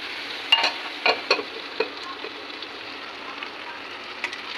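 Curry is sautéed in a pan: a soft continuous sizzle with a few sharp scraping and stirring knocks of a spatula near the start, then a quieter steady fry, close and without speech.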